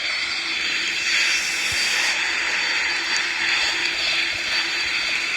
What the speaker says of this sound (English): oh, I forgot those engines are loud.